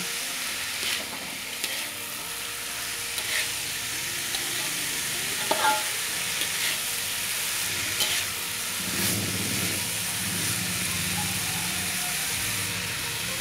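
Carrots and sweet potato being stirred in a frying pan while making jalang kote pastry filling: steady sizzle throughout, with scraping spatula strokes and clinks repeating irregularly, close and moderately loud, no talking.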